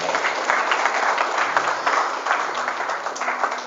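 Audience applause at a live religious gathering in an Islamic boarding school, a continuous dense patter of many hands clapping at moderate volume for the whole stretch, with faint voices underneath.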